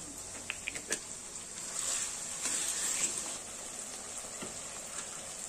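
Bread upma mixture with tomato sauce fries in a pan, a faint, steady hiss with a few small pops and scraping stirs close by.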